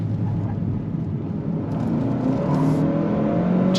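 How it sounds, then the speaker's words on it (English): Engine of a 2023 Kia K5 GT sport sedan revving through downshifts, a loud, steady close-up drone with rising and falling pitch as the revs climb, no talk. "Nice downshifts."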